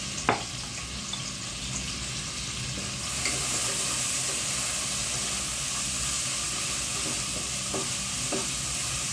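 Onions and green chilies frying and being stirred in a kitchen pan, a steady soft sizzle and hiss that grows fuller partway through, with faint scrapes and clinks, fairly quiet and close.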